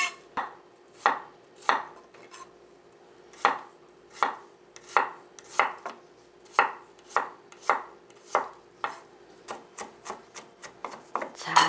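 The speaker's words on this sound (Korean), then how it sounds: "마늘을 다져줄 거예요." A knife chops garlic on a cutting board in a home kitchen. Close, crisp, fairly regular thwacks, about twenty in all, come with short pauses and no talk.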